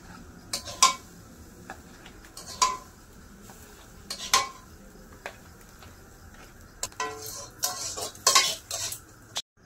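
A carrot and coconut filling for bhapa pitha is scooped from a pan into a bowl, giving sharp intermittent spoon and metal clinks over a quiet background.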